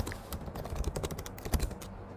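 Password being typed on a computer keyboard: a quick, uneven run of close, crisp key clicks, about a dozen presses tapped in a burst with short pauses, no talking.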